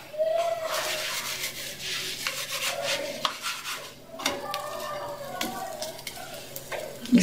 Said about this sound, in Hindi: इसे हम तेज आंच पे दूसरे साइड पे सिकने देते हैं